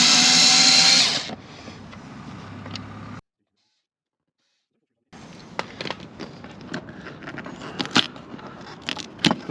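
A power tool backs four screws out of a Truma water inlet: a loud whir at the start drops away, a short silence follows, then scattered clicks and rattles as the work continues.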